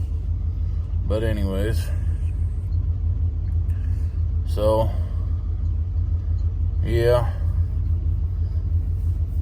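An old pickup truck engine, once taken to tractor pulls, rumbles at a steady low idle throughout while someone talks over it in short bursts.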